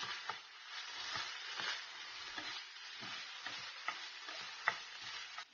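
Boiled rice being stirred into green chili sauce and vinegar in a pan while cooking cauliflower fried rice, giving a steady soft sizzle with repeated scraping stir strokes, close and fairly quiet.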